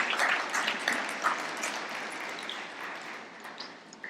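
A church congregation in Querétaro, Mexico applauds during a Sunday sermon, a dense wash of clapping that stays fairly steady and moderately loud before slowly thinning out over a few seconds.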